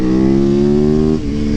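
A motorcycle engine pulls hard with low-end torque, a loud, steady rising drone that holds for about a second before easing off, then continues more quietly.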